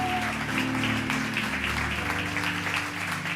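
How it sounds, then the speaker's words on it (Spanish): Applause for the name of the Lord fills a church service: a dense, steady wash of clapping from a congregation that runs throughout, with sustained musical tones underneath and no speech over it. "¿Qué tal si le damos un aplauso al nombre del Señor?"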